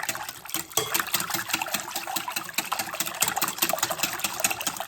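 Eggs and vanilla extract whisked together in a bowl for pancake batter, a fast steady clicking and sloshing beat close up, continuous with no talking.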